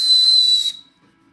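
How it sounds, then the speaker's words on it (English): A very high-pitched, steady whistle blown close and loud for under a second, then cutting off into near silence. "very high pitched whistle."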